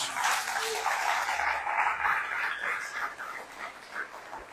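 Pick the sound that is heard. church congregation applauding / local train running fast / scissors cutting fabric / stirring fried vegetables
church congregation applauding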